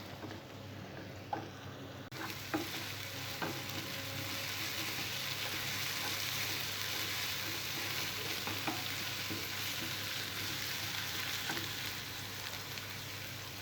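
Onion paste frying in a pan for a tomato egg curry, giving a continuous close sizzle with a few scattered scrapes and taps from stirring and no talking.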